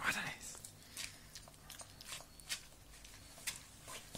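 A hungry dog eats its food close by, with soft irregular chewing and biting noises and small crunches under quiet talking in the room.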